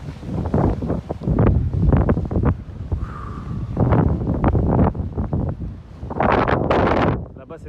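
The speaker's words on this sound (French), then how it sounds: "Oh, il y a du vent par contre." Strong wind buffets the microphone at the top of a lighthouse in Guadeloupe, gusting in loud rumbling bursts throughout with a few faint voices under it.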